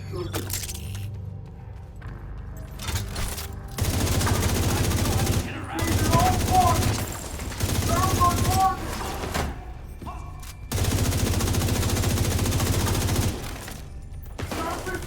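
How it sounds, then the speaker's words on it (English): Bursts of rapid gunfire in the video game The Division 2 rattle in several long volleys separated by short pauses, with brief talking in the quieter gaps. "Gunfire!"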